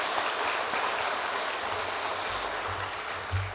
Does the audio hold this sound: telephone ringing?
no